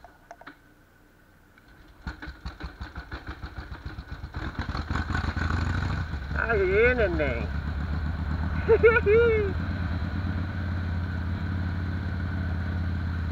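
A Harley-Davidson Dyna Super Glide motorcycle cranks with a rapid, rhythmic starter clatter, then catches and settles into a loud, lumpy idle. Someone speaks briefly over the running engine.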